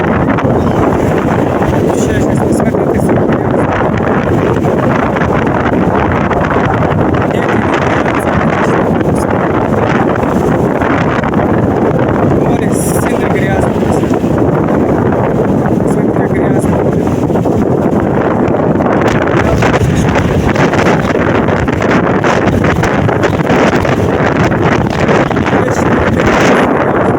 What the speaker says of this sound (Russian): возле моря еще сильнее ветер